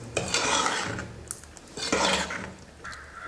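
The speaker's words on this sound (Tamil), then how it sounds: "இப்போ நல்லா கலந்து விட்டுடலாம்." A ladle stirs bonda kuzhambu, a tamarind-style gravy with coriander leaves added, in a pot, giving two long wet scraping sweeps with soft metallic clinks, close and moderately loud with no talking.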